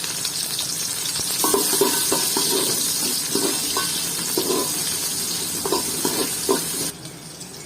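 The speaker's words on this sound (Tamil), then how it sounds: "சின்ன வெங்காயம் நல்லா பொறிஞ்சு வந்தோட்டே" Small onions (shallots) frying in a pan, a steady hiss of sizzling oil with intermittent scraping and stirring knocks, fairly close.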